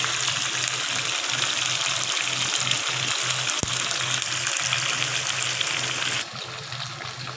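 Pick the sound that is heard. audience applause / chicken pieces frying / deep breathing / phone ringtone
chicken pieces frying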